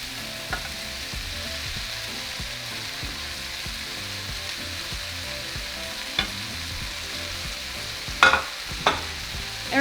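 Beef sizzles steadily in a hot pan while being cooked for chimichangas, a dense continuous frying hiss with a few sharp utensil knocks near the end, close and without voices.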